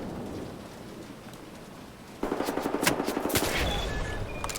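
Gunfire in the shooter Wolfenstein: The New Order, a quiet stretch giving way to a burst of rapid shots with sharp cracks over a steady noisy bed, fairly close and loud.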